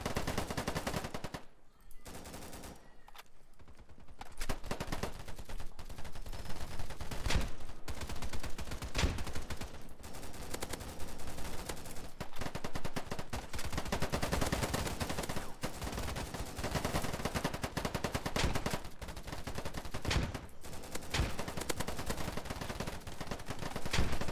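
Continuous gunfire from Polygon, a shooter video game, with dense rapid bursts and single shots packed together for long stretches, loud and close, broken only by a couple of short quieter gaps.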